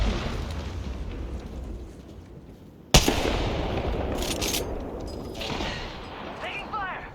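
Gunfire crackles in a video game shooter, a steady wash of distant shots that breaks into a sharp, loud burst midway, followed by further rattling fire, with a voice speaking over it.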